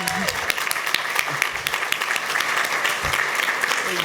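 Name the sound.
audience applause for the housing commissioner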